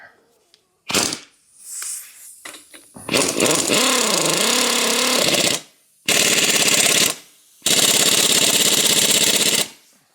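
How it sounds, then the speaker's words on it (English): Impact wrench tightening a part on a Miller Onan 225NT welder, firing in several loud, sustained rattling bursts separated by short pauses, close up and alone. "I'm gonna just trust my instincts on it with my impact wrench."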